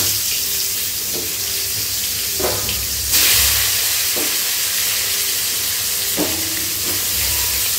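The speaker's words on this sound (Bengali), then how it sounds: "এইবারে আমি আলুগুলো এই তেলে ভেজে নেব।" Salted, turmeric-coated potatoes fry in mustard oil, a steady sizzle running throughout with occasional sharp clinks of stirring against the pan, no voices.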